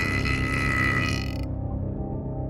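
A cow, goat or yak belching: one long, low, guttural burp lasting about two seconds, loud and close, with no talking.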